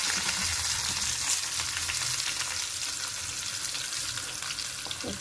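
Onion and green chilli frying in a pan for a tamarind-leaf, tomato and drumstick curry, giving a steady, dense sizzle that continues unbroken throughout at close range, with no talking.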